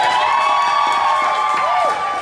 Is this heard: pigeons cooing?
no